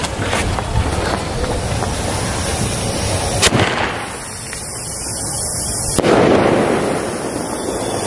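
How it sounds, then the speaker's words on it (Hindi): A Cheema company sky shot firework launches and bursts outdoors, giving a continuous crackling, hissing rumble broken by two sharp, loud cracks a few seconds apart. "अब हमारे पास में चीमा कंपनी का स्काई शॉट, अब इसमें लगाते हैं इसी करते टेस्टिंग"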